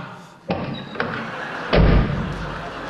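A door in a family home is pushed shut with a few dull thuds, closing with one heavier, louder slam near the end.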